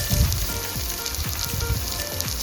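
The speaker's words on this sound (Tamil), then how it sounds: "ஒரு டேபிள் ஸ்பூன் பார்த்திங்கன்னா சோம்பு நல்லா வந்து வறுபடணும்" Fennel seeds roasting in hot oil in a pan while cooking a Tamil mushroom masala, giving a steady close sizzle and crackle with low bubbling pops throughout and no talking.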